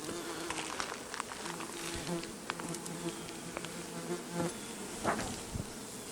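Bees buzz in a dense, continuous drone around a beehive in early fall, many wings humming together close by with occasional louder passes of single bees, steady throughout with no talking.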